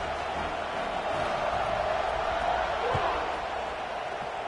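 A large stadium crowd in College Football 26 roars in a steady, broad wash of cheering as the teams line up for a kickoff in USC at Florida State, with a play-by-play commentator talking over it.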